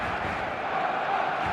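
Dense stadium crowd roar before kickoff in the football video game eFootball 2026, a steady loud wash of massed voices with no clear breaks.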